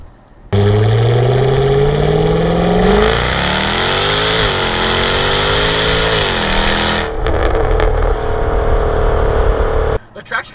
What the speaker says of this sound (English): when you floor this car, it lights up the rear tires, but when it hooks up, it shoots you to illegal speeds